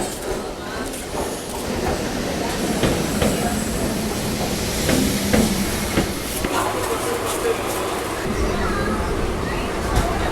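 An AC local train on the Chennai Beach to Chengalpattu line runs steadily, with a continuous rumble and rattle of carriages over the rails throughout, under faint talk.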